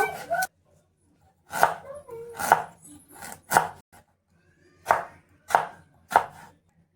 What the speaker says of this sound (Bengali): তো তো টমেটোটা এভাবে একটু লম্বা লম্বা করে কেটে নেব।